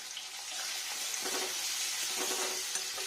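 Onion and green chilli frying in a pan with a soft, steady sizzle and faint crackle, fairly quiet and close, without talk.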